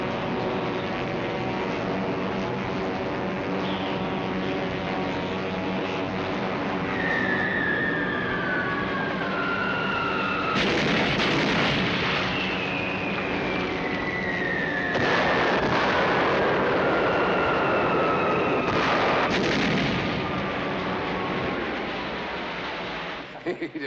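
Aerial bombing of a ship in a 1955 film, with aircraft engines droning steadily while falling bombs whistle downward. Three heavy, booming explosions follow at intervals, each roaring loudly before fading back into the drone.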